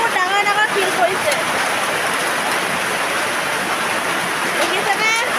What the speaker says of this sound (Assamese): চাওক আমাৰ ইয়াত একদম বৰষুণৰ লগত শিলো পৰিছে